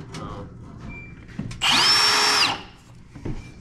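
A power drill cuts into wood, throwing out sawdust in a single loud, high whining burst of about a second, preceded and followed by quieter handling noises.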